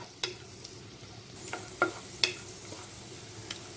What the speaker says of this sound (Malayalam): അതിലേക്ക് കുറച്ച് റേസിൻസ് കൂടി ചേർക്കുന്നുണ്ട്. നന്നായി റോസ്റ്റ് ചെയ്തെടുക്കുക.